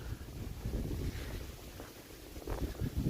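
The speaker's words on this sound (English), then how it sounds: "Gust of wind coming out of nowhere here." A gust of wind blows outdoors on a bitterly cold night in Toronto, a steady rushing roar with low buffeting against the microphone that swells again near the end.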